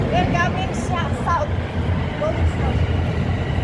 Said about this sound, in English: Sasakay kami ng train dito sa subway.